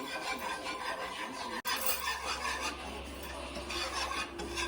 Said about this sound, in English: So you're gonna whisk it, whisk it, whisk it.